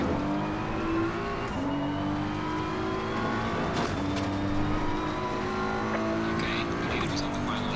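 A Ferrari race car engine in Assetto Corsa Competizione at the Zolder circuit drones loudly and continuously, rising through the revs and dropping sharply at each gear change, with race commentary talking over it.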